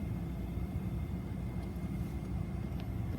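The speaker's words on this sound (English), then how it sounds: "And that's an A220 right there." An Airbus A220 at Akron-Canton Airport, heard as a steady, broad engine roar and rumble at moderate distance that holds evenly throughout with no talk.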